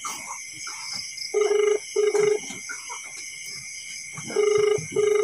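A phone call to a scammer rings unanswered: two pairs of short electronic ring pulses repeat, separated by a pause, over faint background hiss and room noise.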